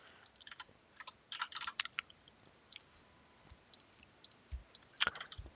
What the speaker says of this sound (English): Sorry for the chewing noises in the background.